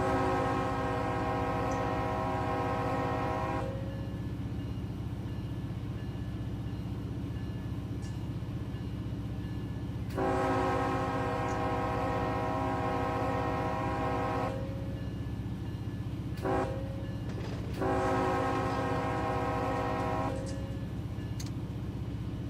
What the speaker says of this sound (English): Dogs next door hear me blowing the horn on the train